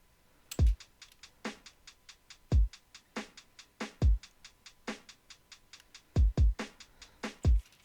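A produced drum beat with a deep booming kick, a snare and a fast ticking hi-hat plays a steady looping pattern, clear and close with no voices.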